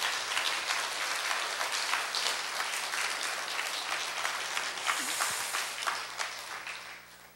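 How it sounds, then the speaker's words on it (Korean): A church congregation claps together in dense, sustained applause that stays steady and loud for several seconds before tapering off at the end. "박수를 한번 올려드리겠습니다"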